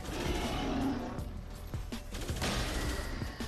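Gunfire against a Panzer enemy in Call of Duty: Cold War on round 19, a few weapon shots cracking over a rumbling game soundscape with roaring, no talk.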